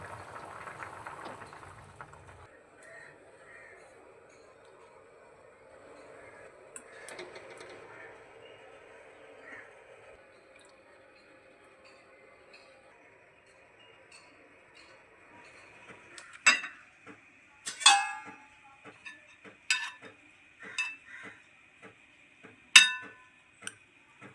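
Rasgullas poured from a pan into a bowl: a quiet stretch, then a run of sharp metallic clinks and knocks of pan rim against the bowl toward the end.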